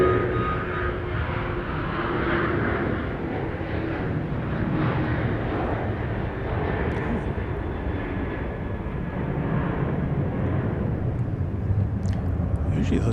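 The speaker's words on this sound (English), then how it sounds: "Let's see if we can get a view of a plane taking off from the east side of the airfield." An airliner takes off at Dallas Love Field airport, a loud, steady jet roar filling the whole stretch with broad rumbling noise that stays close and constant, with no pause.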